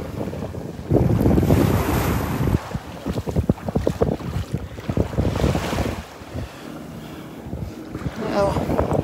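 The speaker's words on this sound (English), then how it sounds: "The waves." Ocean surf breaking and washing onto the beach at Sand Dollar Island on Marco Island, Florida, heard as a steady roar with strong wind buffeting the microphone.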